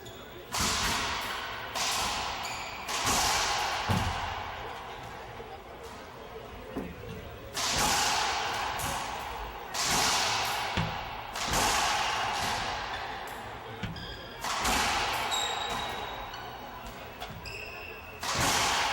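Sharp ball impacts crack repeatedly in quick bursts, echoing in an enclosed court, with irregular gaps between volleys and faint voices underneath.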